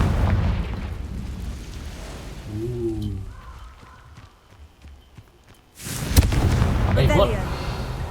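Confringo, the fire-blast spell in Hogwarts Legacy, erupts as a loud, sudden boom that swells and rumbles for a couple of seconds. Softer game sounds come before it, and someone talks at points.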